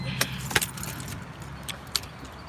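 Keys jangle in a few sharp metallic bursts as a car is switched off after a Walmart delivery run, with a low engine hum fading underneath; the sounds are close and fairly quiet, and nobody speaks.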